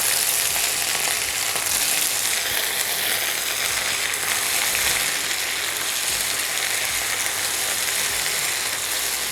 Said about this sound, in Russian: Минут 15-20 картошка будет обжариваться.